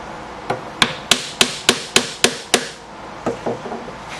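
A mallet strikes a chisel to clear waste from a wood joint, giving eight crisp, evenly spaced knocks, then a pause and a few softer, quicker taps.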